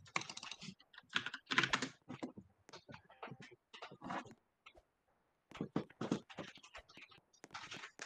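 Close computer keyboard typing during a Roblox session, bursts of quick clicky keystrokes broken by short pauses and one longer gap, moderately quiet but clear.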